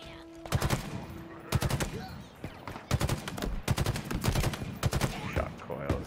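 Rapid bursts of automatic gunfire from a weapon in the Halo Infinite campaign, several volleys of shots in quick succession, loud and close, with faint game ambience between bursts.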